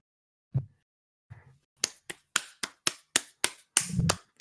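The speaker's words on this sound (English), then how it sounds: "a huge round of applause" A few scattered claps, then a quicker run of single sharp hand claps from one or two people, close and dry, with no crowd.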